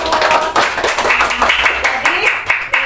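Classroom clapping for a student group after a solar system role play, a cluster of hands clapping fairly close with irregular slaps, mixed with voices talking over it.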